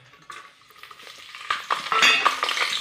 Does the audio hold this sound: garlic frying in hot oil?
yes